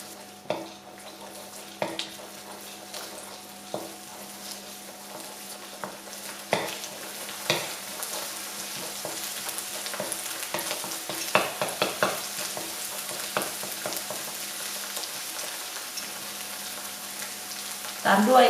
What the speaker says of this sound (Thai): คนไปเรื่อยๆนะคะจนกว่าไข่จะสุก